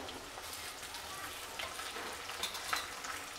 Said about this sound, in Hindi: अब इसको डाल के ब्राउन कलर होने तक फ्राई करेंगे इस तरह से।